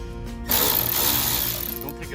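Mechanical whirring of a T30 Torx driver loosening a screw on carbon fiber rock guards fitted to an Audi R8, a steady close buzz running about a second and a half before tapering off.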